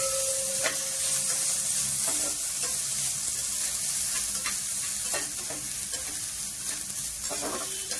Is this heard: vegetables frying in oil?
yes